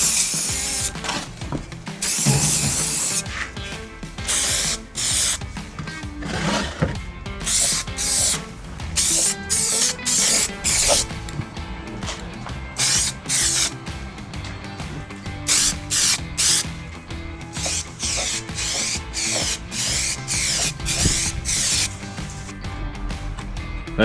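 An aerosol paint can sprays a part from a Triumph Tigress motorcycle in bursts, with repeated short hissing blasts separated by rattling and clicking between passes, close and fairly loud.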